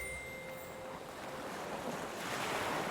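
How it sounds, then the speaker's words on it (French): Ocean waves wash steadily onto the shore with a soft, continuous roar and a touch of wind, evenly loud and unbroken, with no voices. "Écoute le bruit des vagues te ressourcer et t'apporter leur confiance."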